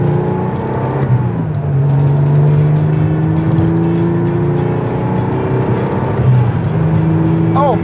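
A Porsche 911 under full throttle, engine note rising steadily and loud from inside the cabin, with a brief gear change midway and continuous strong drone throughout.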